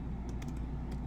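Someone types on a computer keyboard while coding in Python, giving a quick burst of a few light clicking keystrokes over a steady low hum.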